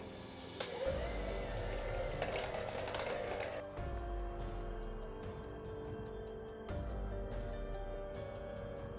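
Softened cream cheese and mild cheddar are mixed together with a continuous whirring, churning sound at a moderate, steady level. The sound surges now and then.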